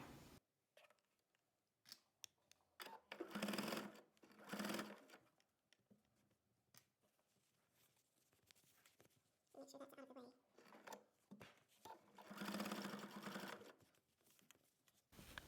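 A sewing machine stitches a star quilt block along a chalk mark, running in a few bursts of a few seconds each with quiet pauses between, close and fairly loud, with small handling noises in the gaps.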